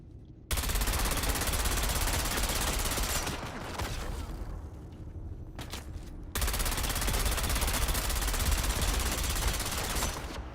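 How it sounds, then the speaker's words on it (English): Sustained loud, dense weapon fire from a disruptor in a video game, a continuous roaring burst that dips briefly in the middle, then resumes at full strength to the end. "Let's see if I can actually use a disruptor to shoot anything."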